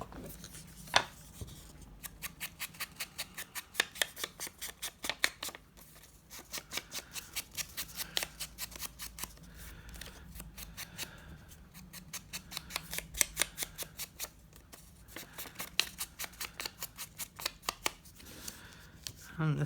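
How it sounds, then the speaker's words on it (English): Paper edges are inked for an inspiration journal, a rapid series of soft dabbing and rubbing taps in repeated bursts, with a quiet voice talking underneath. "And now I'm just going to ink the edges of this paper up."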